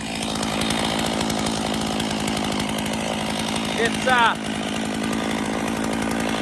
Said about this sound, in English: I'm gonna yell because the chainsaw is on and I know it's hard to hear